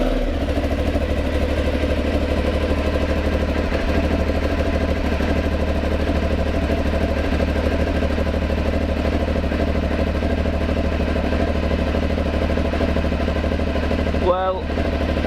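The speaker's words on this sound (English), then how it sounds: "Well, it's certainly running better. It's running all right." Aprilia Shiver motorcycle engine idling steadily up close after an air pressure sensor fix, a continuous even low rumble throughout with a brief mechanical blip near the end.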